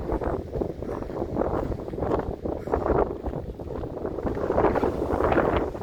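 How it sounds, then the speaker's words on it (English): Wind gusts buffeting the microphone on a mountain hiking trail, a steady low rumbling roar that swells in waves and grows stronger toward the end, with no voices. "Woo, that wind."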